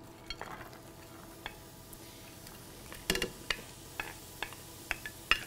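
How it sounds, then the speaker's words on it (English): Chopped onions, celery and garlic sauté in melted butter in a hot pan, a soft low sizzle under scattered clicks and scrapes from stirring, growing busier partway through. "I have some chopped onions, some chopped celery, and garlic. We're gonna add that to the pan."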